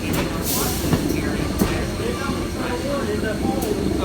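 Steam locomotive 4501 rolling along a railroad line, a steady broadband rumble with faint rail clatter, heard from trackside with people talking in the background.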